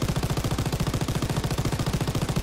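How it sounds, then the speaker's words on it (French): A machine gun in a World War II video game fires a continuous rapid burst, loud and dense, with evenly spaced shots and no talk. "Utiliser la mitrailleuse."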